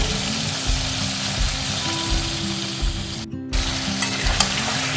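Potatoes with ginger paste sizzle and fry steadily in a pan, with a spoon stirring and scraping in a rhythmic pattern, close and fairly quiet, with no talk.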